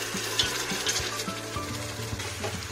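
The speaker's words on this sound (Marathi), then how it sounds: "थोडा आणखीन 2 मिनिट आपण हा परतून घ्यायचा आहे." Chicken pulao masala sautéing in a pressure cooker, a close, continuous sizzle with quick rhythmic scraping stirs and faint clinks of metal, no one talking.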